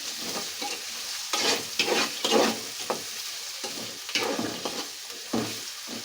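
Dried prawns and onions sizzle steadily in a pan while a spoon stirs them in repeated scraping strokes, close and continuous, with no voices.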